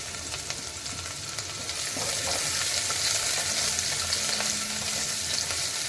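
Half an onion sautéing in hot oil with crushed garlic and chopped curry leaves for a Marathi-style crab curry, a steady close sizzle that swells louder partway through and holds, with faint stirring and no talk.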